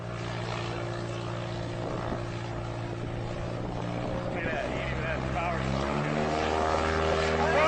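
A propeller airplane drones steadily through a short takeoff, its engine tone rising and shifting upward in pitch as power builds, loud and continuous throughout.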